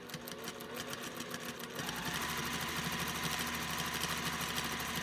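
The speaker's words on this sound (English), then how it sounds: "as I'm sewing, I'm moving this circle to keep the edge of the circle lined up with the edge of the felt" A sewing machine stitches around a felt circle, its motor picking up into a fast, even, close mechanical whir after a slower start, with no speech.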